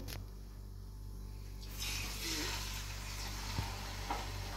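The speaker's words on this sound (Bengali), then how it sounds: "এখন আমি চিকেনগুলো একটু ভেজে নেব" Chicken pieces frying in white oil with leftover fried-onion oil for a chicken gravy roast, a steady broadband sizzle swelling louder after a couple of seconds, with a few faint clinks over a low background hum.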